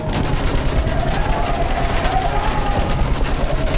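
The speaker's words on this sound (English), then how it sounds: "Use that machine gun! Mow them down!" Sustained machine gun fire in the World War I shooter game Battlefield 1, a dense, continuous rattle of rapid shots that stays loud and steady throughout, with no clear talk over it.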